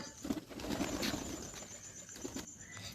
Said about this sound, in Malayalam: ഇത് ഞങ്ങളുടെ അടുത്ത വീട്ടിലെ പ്രാവുകളാണ് കേട്ടോ